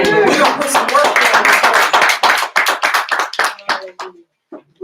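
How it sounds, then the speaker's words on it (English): A church congregation at a women's ministry gathering claps along, a dense burst of many hands under loud talking and shouts that thins into scattered claps and then fades out. "clap your hands for the Lord"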